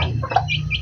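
Chicks peep in short, high chirps at a backyard coop with caged chickens, a few thin calls rising over a steady low hum, near and moderately loud with no talking.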